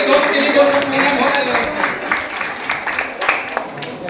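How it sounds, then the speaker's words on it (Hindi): An audience at a retirement gathering claps for the retiree, a moderately loud patter of many hands with voices talking through it. "तालियां बजाइए सर के लिए"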